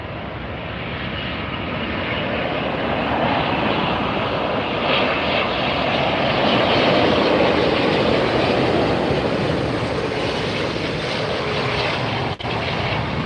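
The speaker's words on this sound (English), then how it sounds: "that was a butter landing right there" A Lufthansa airliner lands on runway 24R at LAX with a loud, sustained jet roar that swells toward the middle and holds steady for over thirteen seconds, with no talk.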